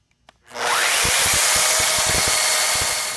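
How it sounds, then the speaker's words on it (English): A chainsaw cuts a 50-degree angle through a post-and-beam timber held on a rotary table, starting up close and loud and then holding a steady high whine with rhythmic chopping pulses as the chain bites into the wood. "using the chainsaw again."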